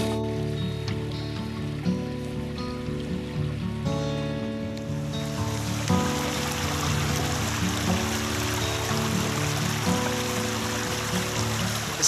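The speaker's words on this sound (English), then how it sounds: "We're nearing the river now, look." River flowing on Dartmoor, a steady broadband rush of water over a low mechanical hum, swelling louder partway through and continuing without talk.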